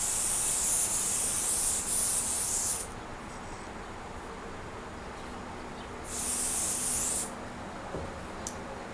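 Two hissing bursts of spray onto a quilt, the first lasting nearly three seconds and the second shorter, separated by a quieter stretch of soft rustling and room noise.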